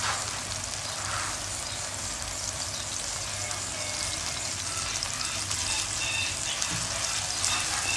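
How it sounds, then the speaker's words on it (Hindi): Chicken pieces fry in a pan with a steady, dense sizzle, a continuous bright crackling hiss that holds at the same level throughout, with no voices over it. "ये मैंने चिकन डाल दी है और इसको हम फ्राई कर रहे हैं"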